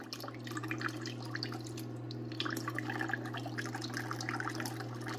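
A FOHERE IM1102B countertop ice maker running its self-clean cycle with baking soda water, a steady motor hum under continuous trickling and dripping water, close and moderately loud.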